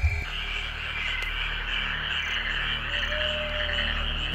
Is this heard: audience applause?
no